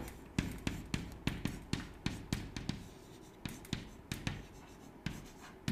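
Chalk or marker tapping and scraping on a board while an equation is written, in a rapid series of short strokes with brief pauses, close and fairly clear, with no talk.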